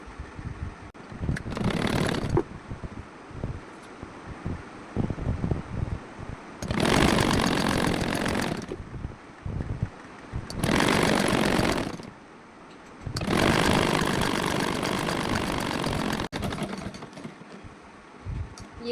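A sewing machine stitches a round-neck blouse in several bursts of steady whirring, each running a few seconds, separated by short pauses with faint handling noise, close and moderately loud.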